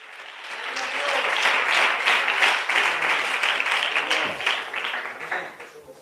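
A church congregation applauds in a dense, sustained wave of clapping that swells quickly, holds loud for several seconds, then tapers off.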